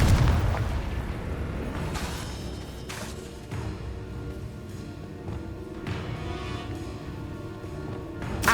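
Fiery Confringo spell blasts from Hogwarts Legacy, a series of booming, rumbling explosions over a dense, continuous bed of magical combat noise, with several sharp bursts standing out along the way.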